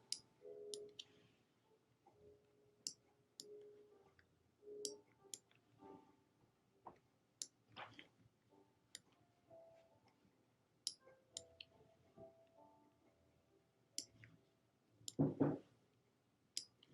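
Sharp mouse clicks from someone drawing in an app, scattered and irregular, with short clusters and gaps over quiet room tone, plus a louder thump near the end.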